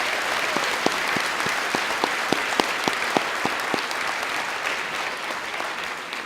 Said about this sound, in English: Can we give one more round of applause to the graduates of the Department of Education Leadership?